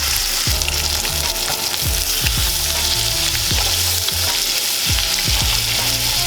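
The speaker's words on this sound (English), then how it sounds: "we're gonna flip this bad boy steak, kind of turn down the heat, a little smoky" Steak fries in a hot pan with butter, a loud, steady sizzle and crackle that fills the whole stretch, with occasional soft clinks from the pan and no voices.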